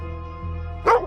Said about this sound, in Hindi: जाकर देखो कुत्ते भौंक क्यों रहे इतना।